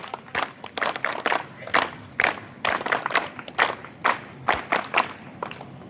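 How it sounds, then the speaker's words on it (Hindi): Clapping in a rhythmic, coordinated hero-clap pattern from a gathered crowd at an Arya Samaj camp closing ceremony, sharp repeated bursts of claps at close range, fairly loud, with no talking over them. "जोरदार वीर ताली।"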